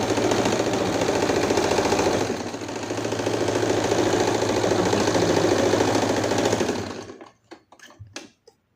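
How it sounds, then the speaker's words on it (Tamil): A sewing machine runs a zigzag stitch along elastic on a puff sleeve, a steady close mechanical whir with rapid needle pulses for about seven seconds before stopping, leaving a few faint clicks. "ஸோ ஜிக்ஸாக் ஸ்டிச் போடும்போது உங்களுக்கு என்னென்னா முன்னாடி பார்க்க அந்த டிசைன் வந்து பார்க்க நல்லாயிருக்கும் உங்களுக்கு. எலாஸ்டிக் தைக்கணும்."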